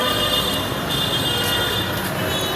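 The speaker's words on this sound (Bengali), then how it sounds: "metro rail" A Dhaka metro train rumbles past continuously, a loud steady roar of wheels on rails with faint high squeals.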